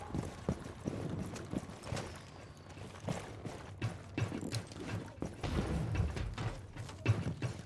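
Horse hooves clip-clop in a video game, a quiet uneven run of soft hoof beats mixed with faint mechanical clicks, with no talk.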